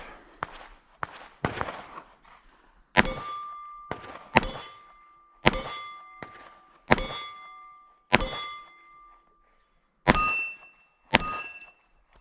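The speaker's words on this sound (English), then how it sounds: "I'm going to shoot these with one hand." A 1945 Remington Rand pistol fired one-handed outdoors, about a dozen sharp, loud shots spaced roughly a second apart, some followed by a metallic ringing clang from steel targets.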